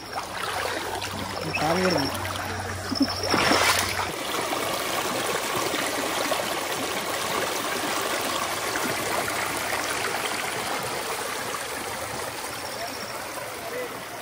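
Water flows steadily at Paalakondalu waterfall in Kadapa, a close, constant rush with a voice speaking over it during the first few seconds.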